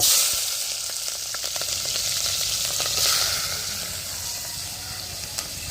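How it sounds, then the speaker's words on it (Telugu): Green chillies and onions fry in hot oil, with an even, moderate sizzle and hiss that holds steady, a few small crackles and no talking. "ఆయిల్ అయితే బాగా వేడైంది కదా, పచ్చిమిర్చి ఇంకా అలానే ఉల్లిగడ్డలు వేసుకుందాం"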